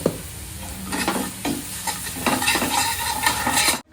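Spice masala with cumin powder being sautéed in a pan, a steady oily sizzle under repeated scraping stirs of a spatula, close and loud, with light clinks of the pan.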